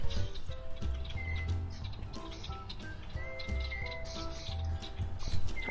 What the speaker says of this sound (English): If you listen closely, you might actually hear some birds calling around me.